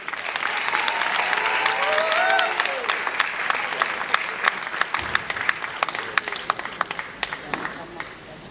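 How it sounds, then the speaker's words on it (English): Audience applause at a live Milestones of Freedom campaign event officiated by President Cyril Ramaphosa; a broad wash of clapping builds, then thins into scattered individual claps, with a voice speaking over the opening seconds. "Another round of applause."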